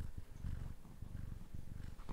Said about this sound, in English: I could probably get her to purr